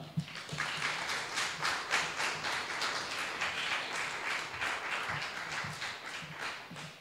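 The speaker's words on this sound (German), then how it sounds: "Ich bitte um Applaus" Applause from the audience at a Pirate Party campaign event in Bamberg, a faint, steady patter of many hands clapping continuously, heard from a distance in a hall.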